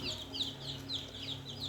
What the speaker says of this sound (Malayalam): ഇതാണ് ഏറ്റവും ആദ്യം വയ്ക്കുന്ന കോഴി